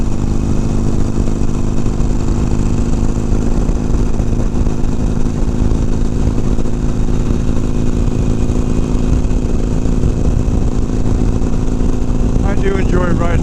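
A motorcycle cruises along an empty countryside road with a continuous, loud engine hum and steady wind roar, unbroken for the whole stretch, with a brief faint chirp near the end.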